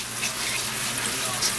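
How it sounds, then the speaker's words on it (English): A kitchen sink sprayer rinses freshly sliced jalapenos, giving a steady broadband hiss of spraying water that runs continuously through the short moment at close range. "I'm just going to take my sprayer, hit them with a little bit of water,"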